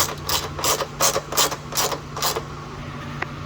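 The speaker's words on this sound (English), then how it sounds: "to tie this one I am using an extension with a 13mm socket" A ratchet with an extension and 13mm socket tightens running board bolts on a 2011 Jeep Wrangler JK, giving six bursts of close, rapid clicking in an even rhythm, then a single faint tick.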